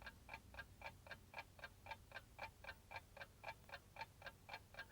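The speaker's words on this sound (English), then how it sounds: "And something else ticking. It's the clock." A clock ticks steadily and evenly, about three ticks per second, sharp and clear against a quiet background with no talking.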